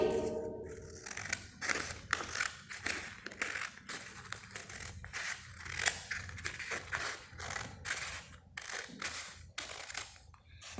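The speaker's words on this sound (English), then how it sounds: "Now this pattern I will cut on horizontal line." Scissors snip through a paper pattern along a horizontal line, a steady series of crisp cutting strokes with faint paper rustle, close and moderately quiet, with no talk.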